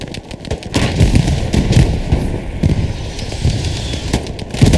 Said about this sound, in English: Some nice nades going out from DC.